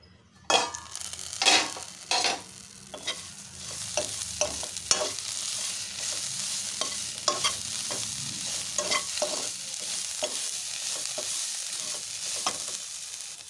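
Amaranth leaves fry in a pan with a continuous close sizzle and repeated spatula scrapes against the metal, steady and fairly loud with no voices.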